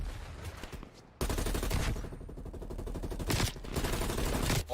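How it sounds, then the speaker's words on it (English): Rapid automatic gunfire from a Call of Duty League 2021 match, a sustained dense burst of shots running nearly continuously after a brief quieter lead-in, loud and close with sharper cracks near the end. "Skies is shooting a lot of bullets, trying to get hit markers through"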